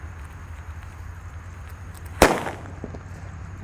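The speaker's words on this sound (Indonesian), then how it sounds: "yang kita nyalakan di sini ada mercon petir" A mercon petir firecracker explodes inside a water gallon with a single sharp, loud bang and a short splashing, rattling tail, over a steady low outdoor rumble.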